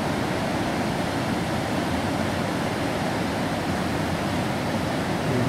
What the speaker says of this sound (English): You can probably hear the sound of the water.